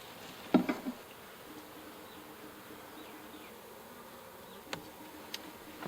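A low, faint hum comes from a cluster of honeybees in a horizontal hive, broken by a few soft knocks and a couple of sharp ticks from handling.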